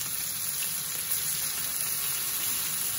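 Chicken wings sizzle slowly over low heat in a pan, a steady soft hiss of frying with no break, heard up close and alone.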